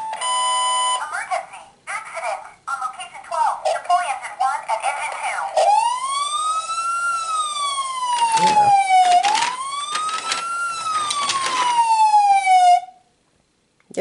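A Matchbox toy fire truck gives a short electronic chime, then a loud wailing siren that rises and falls twice, sounding close and alone before cutting off abruptly.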